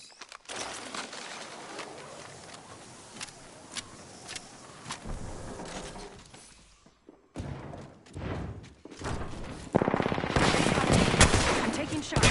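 Gunfire in a first-person shooter video game rattles out in repeated bursts of automatic fire and heavy thumps, loud and close, building to sustained shooting near the end.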